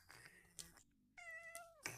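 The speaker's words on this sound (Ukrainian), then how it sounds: "А це наш котик." A pet cat meows several times, short harmonic cries with one longer drawn-out call, close by and fairly clear, with faint outdoor background and no talk.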